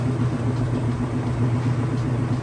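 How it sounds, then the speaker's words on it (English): A washing machine spinning fast in its final rinse gives a steady, loud low hum and rumble with a faint regular throb, running unbroken and alone. "As you can see, it's spinning nice and fast."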